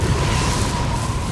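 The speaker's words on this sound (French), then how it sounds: "Une explosion violente retentit." A violent nitroglycerine blast goes off in a glacier crevasse in a movie scene, a loud dense rumbling roar that fills the whole moment with no pause.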